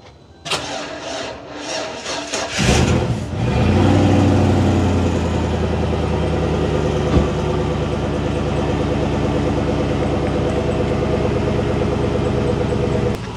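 A Chevy LS V8 cranks over several times from cold, catches with a loud burst, then settles into a steady, even idle close by; no one speaks.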